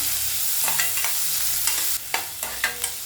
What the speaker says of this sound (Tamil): ஒரு பெரிய வெங்காயம் சின்ன சின்னதாக கட் பண்ணி ஆட் பண்ணிக்கிறேன் இப்போ நல்லா ஃப்ரை பண்ணிக்கலாம்